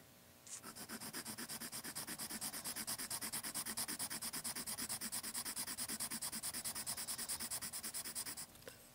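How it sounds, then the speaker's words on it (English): Polychromos oil-based colored pencil stroked across paper at light to medium pressure, a steady rhythmic back-and-forth scratchy rub of rapid even strokes, close and continuous for about eight seconds with no talking. "let you hear how these pencils sound across the paper"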